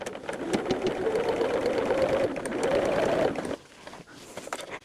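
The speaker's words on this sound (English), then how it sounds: "I will sew this binding down at like 1/8 of an inch" Sewing machine stitching down quilt binding in a steady, fast mechanical whir for about three and a half seconds, then stopping, leaving quiet room sound with a few small handling noises.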